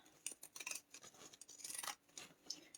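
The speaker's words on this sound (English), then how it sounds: "trim seam allowance is down to a 1/4 inch. So I've got my pinking shears" Pinking shears snip through fabric while trimming a seam allowance to a quarter inch, a quick series of crisp, bright cutting crunches in irregular bursts, close and alone.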